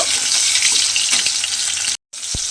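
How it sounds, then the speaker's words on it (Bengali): Chopped tomato sizzles hard in hot oil as it is stirred, a dense, loud frying hiss that runs steadily, cuts out briefly near the end, then resumes with a soft knock. "দিয়ে এবারে খুব ভালোভাবে তেলের মধ্যে টমেটোটা দিয়ে একটু নেড়ে নেব"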